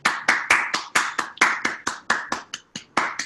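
A run of about fourteen sharp hand claps in a steady rhythm, loud and close, with no voices.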